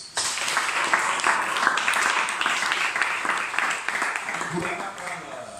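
A church congregation applauds in a dense, sustained wash of clapping that fades slightly toward the end, with voices mixed in.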